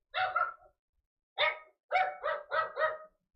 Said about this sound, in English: You heard my dog.